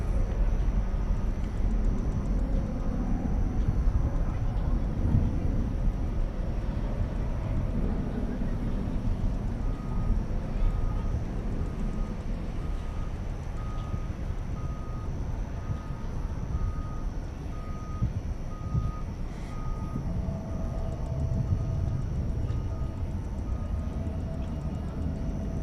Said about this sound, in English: Headed out now is an Airbus A321 to Sacramento, California